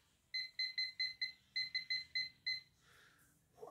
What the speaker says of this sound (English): Grab my timer, turn it on.